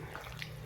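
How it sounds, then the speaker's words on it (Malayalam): Water poured into a pot of beef curry, a short, quiet continuous splash lasting under a second. "ആവശ്യത്തിന് വെള്ളം ഒഴിച്ച്"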